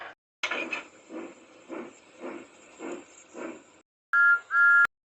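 A model railway steam engine chuffs steadily and rhythmically, then its whistle gives two sharp, loud toots near the end.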